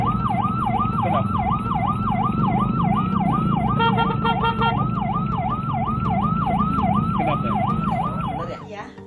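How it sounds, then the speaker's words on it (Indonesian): An ambulance siren wails loudly and close in a steady, rapidly repeating up-and-down pattern over traffic rumble, cutting off near the end. "sirine ambulannya gitu"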